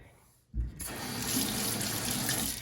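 Tap water runs over a Lamy 2000 fountain pen during a rinse to flush out ink. The steady stream starts abruptly after a brief quiet moment and continues as a close, full splashing rush.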